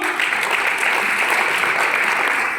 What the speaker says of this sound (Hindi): एक बार बोला कि शशि के लिए भी ताली होना चाहिए दोस्तों।